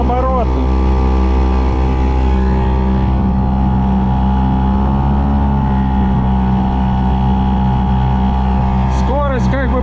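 Outboard engine on an Aqua-Master 280 boat, with a reinforced transom, holding a loud, steady drone close by and rising in revs partway through, while someone speaks over it.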